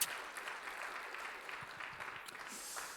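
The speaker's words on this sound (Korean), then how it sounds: "우리 학생들 위해서 우리 축복하며 우리 박수 한번 쳐주시죠." A church congregation applauds students at a Friday evening worship service, giving a short burst of soft, scattered clapping heard from across the room.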